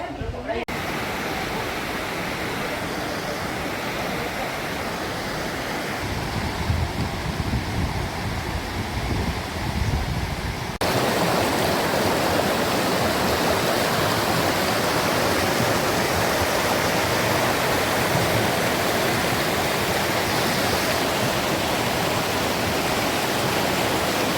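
Waterfall near Marleshwar cave temple in Konkan, a loud, constant roar of rushing water that grows fuller and heavier partway through, heard close with wind buffeting.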